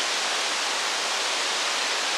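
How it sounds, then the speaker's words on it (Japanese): Shirahige Falls in Hokkaido pours with a steady, even rush of water, a dense continuous hiss close at hand with no voices over it. "これが白ひげの滝です。"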